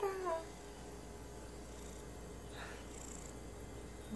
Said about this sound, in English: I'm recording the cat.